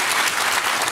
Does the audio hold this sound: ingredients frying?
no